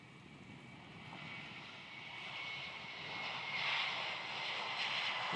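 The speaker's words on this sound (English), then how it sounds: "Qantas 37 rolling off runway 16 to Singapore." A Qantas airliner takes off from runway 16 at Melbourne Airport, its engine roar distant and faint but rising steadily, with no voices.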